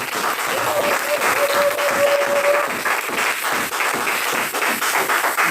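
A church congregation applauds at a French-language worship service, a dense, steady wash of clapping that stays loud throughout, with a voice faintly heard under it.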